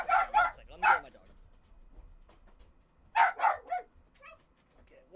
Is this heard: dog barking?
yes